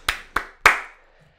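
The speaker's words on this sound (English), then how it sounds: "Let's give him a round of applause." Three sharp hand claps in quick succession, close and fairly loud, the last ringing out slightly before silence, as a brief round of applause.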